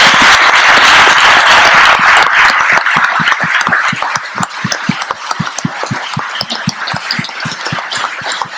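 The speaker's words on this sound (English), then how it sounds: "I would really ask you now to give a huge applause to our guest speaker" An audience at a university talk in Paris applauds a guest speaker, a loud, dense burst of clapping that settles into a steadier, more separated rhythm of individual claps, with no talking over it.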